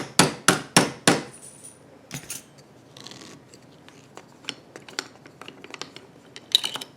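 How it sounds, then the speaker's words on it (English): Four evenly spaced, loud metallic hammer strikes driving bent wire claw weights down, ringing sharply up close, followed by quieter clinks, taps and scraping handling noises. "and then you can just hammer them down."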